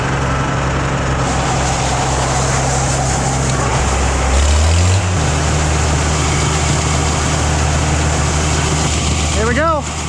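An engine runs at a steady, loud idle with a deep hum, rises briefly in pitch as it revs midway, then settles again, while a voice talks near the end.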